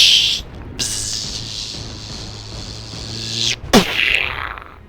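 A voice imitates torpedo sound effects: whooshing, hissing mouth noises with a low hum, a sharp spluttering burst near the end, then a fading rushing sound.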